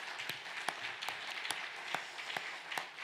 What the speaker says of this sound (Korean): 우리 하나님께 감사의 박수 한번 보내겠습니다.